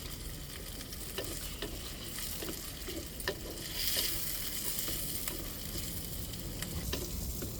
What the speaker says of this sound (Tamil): இப்போ வெங்காயம் தக்காளி நல்லா வதங்கிருச்சு